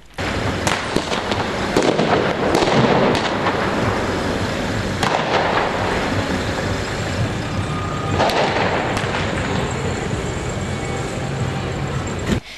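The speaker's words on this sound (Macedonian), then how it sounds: "за пукање петарди и друга пиротехника" Firecrackers and fireworks burst repeatedly in a public square in Tetovo on New Year's Eve, sharp bangs scattered irregularly over a constant rumbling background, some near and loud, others farther off.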